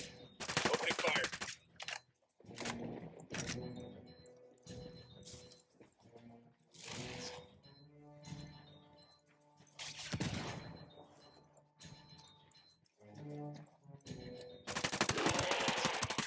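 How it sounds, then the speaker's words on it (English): Gunfire in the video game Ghost Recon Wildlands comes in repeated automatic bursts and single sharp shots, with loud volleys separated by brief pauses. Quieter game sounds fill the gaps between them. "Opening fire."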